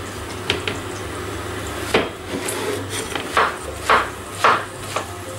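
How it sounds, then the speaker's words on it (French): A knife chops zucchini into pieces on a board: about half a dozen crisp, irregular knocks, some spaced apart and some in quick pairs, over a low background hum. "couteau et courgettes, et c'est parti, on va les détailler en morceaux"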